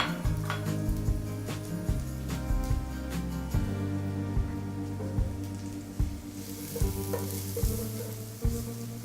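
Ten cloves of garlic and shallots sauté gently in a pan on low heat for a mussel dish, a steady soft sizzle broken by repeated clattering stirs of the utensil against the pan.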